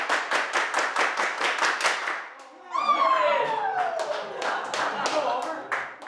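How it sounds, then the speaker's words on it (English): An audience claps together in a steady rhythm, at close range, with one bright clap per beat. After a few seconds the rhythm breaks up into looser clapping with a rising whoop and voices at a panel interview. "Everybody clap your hands."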